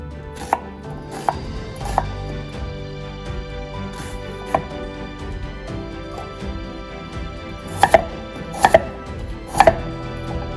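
A knife slices an onion into thin strips on a cutting board while cabbage water kimchi is being made: a steady run of crisp, close chops, with a few louder, sharper cuts grouped toward the end.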